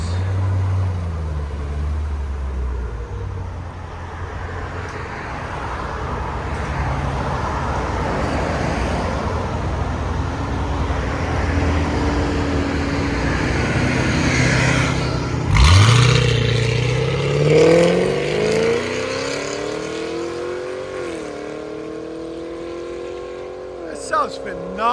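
A 2006 Ford Mustang GT with a 4.6L V8 and Valvetronic Designs universal mufflers rumbles at idle nearby, then revs hard in rising and falling sweeps, a deep loud exhaust note with someone talking over it.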